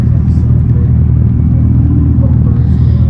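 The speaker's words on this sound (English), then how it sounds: "it is actually mimicking the sound of a gas exhaust" A steady, low engine-like rumble drones continuously, a 2025 Dodge Charger EV's simulated gas exhaust note, loud and close throughout.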